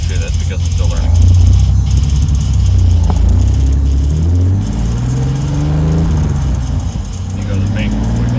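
A bagged BMW E30 with its M20 engine being driven, the engine droning and rising and falling steadily up close from inside the car, with gear changes and mechanical clunks.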